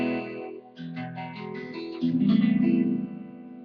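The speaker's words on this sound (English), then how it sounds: "So that's how your guitar should sound right there." An electric guitar in standard E tuning, processed through effects with distortion and reverb, plays a few sustained chords and notes that swell louder toward the end, with no voices over it.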